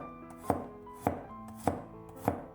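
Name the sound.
knife slicing peeled garlic cloves into thin slices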